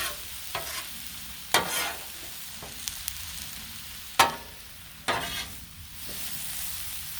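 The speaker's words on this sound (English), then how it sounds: "Let's get this all stirred up." Cabbage, kielbasa and potatoes frying on a Blackstone griddle are stirred with a big spatula, giving four or five sharp scraping strokes over a steady background sizzle.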